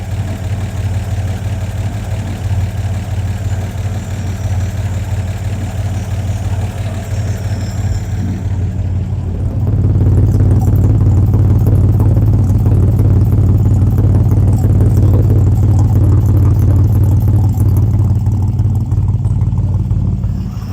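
A 1952 Chevy engine with a misfire idles close by, a steady low rumble with a faint uneven clatter that grows louder and fuller partway through, with no voices.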